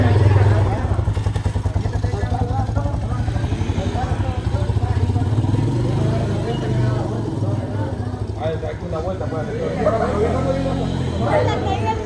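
A motorcycle engine revs and putters nearby, its throttle rising as the clutch is released and it pulls away, while several people chatter loudly over it.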